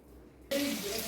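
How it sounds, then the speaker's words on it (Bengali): A tap is turned on halfway through to rinse a kadai in a kitchen sink, and the quiet gives way abruptly to a steady, close rush of running water. "কড়াইটা একটু ধুয়ে নিই"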